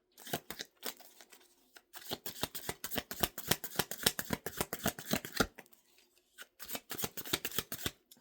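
A deck of tarot cards shuffled up close, with rapid papery riffles and snaps in quick runs separated by short silent pauses, fairly quiet and heard alone.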